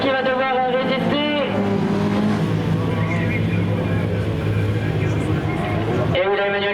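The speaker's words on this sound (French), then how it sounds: "de Jean-François Lefebvre, l'Alpine à 310 qui doit résister désormais face au retour de la Porsche là pour Wilfried Bonafou" Alpine and Porsche touring cars racing in a Tourisme Cup event at Montauban de Bretagne, engines roaring and revving loudly throughout under continuous commentary.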